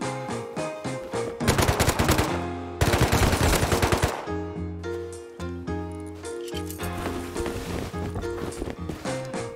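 Rapid bursts of automatic gunfire in the video game Rust crackle loudly, with dense volleys mixed over a steady tonal game soundtrack, pausing briefly between sprays.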